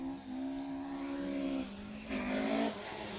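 A rally car spins its wheels on a gravel stage, engine revving hard in two strained bursts with a gap between, fairly close and loud with no talk over it.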